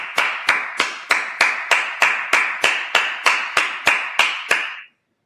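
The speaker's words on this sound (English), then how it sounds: "let's clap it up." A Sabbath service congregation claps in tight unison, about a dozen evenly spaced, sharp claps in a steady rhythm that then stop abruptly into silence.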